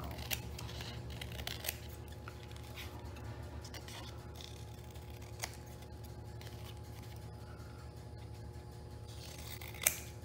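Scissors snip paper for a handmade shabby-style journal, a series of faint, sparse cuts and clicks spread across the stretch over a steady low room hum, with no talking.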